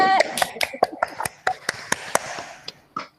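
Students in a classroom give a short round of applause for a discussion group, with sharp, scattered claps at an irregular rhythm and voices mixed in.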